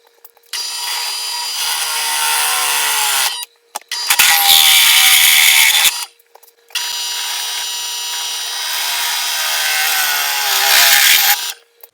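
A drill press bores holes in a part for a 1994 Ford Ranger, three loud sustained runs of whining motor and cutting noise separated by brief pauses, close up with no voices.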